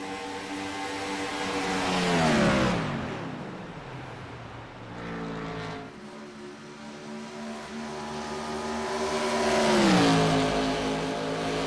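IROC race cars pass on the Atlanta track, engines rising and falling in pitch as they sweep by, with hissing air and tire noise between two loud passes and no commentary over it.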